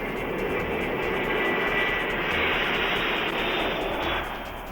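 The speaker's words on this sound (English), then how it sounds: "Looking Glass missions are flown from Offutt Air Force Base by EC-135C jet Stratotankers." A steady, loud broadband jet engine roar from an EC-135C Stratotanker airborne command post aircraft in flight, continuous and sustained throughout with no talk.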